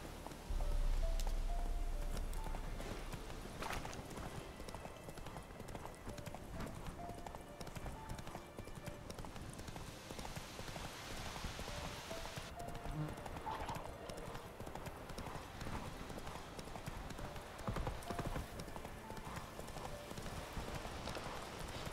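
Roach the horse gallops through The Witcher 3 with a steady, close clip-clop of hooves that runs the whole way, layered over game ambience, with a brief whinny near the start and some talk in places.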